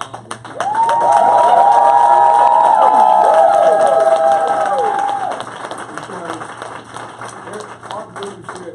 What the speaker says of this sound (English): you guys need to give them a big, huge round of applause